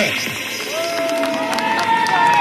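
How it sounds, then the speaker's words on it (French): A crowd at an outdoor stunt show cheers for the stuntman David, a steady wash of voices and applause with a drawn-out shout rising above the din. "on va pouvoir l'encourager, l'applaudir notre ami David"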